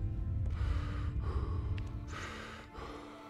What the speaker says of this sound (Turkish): Derin derin nefes alıyor zaten.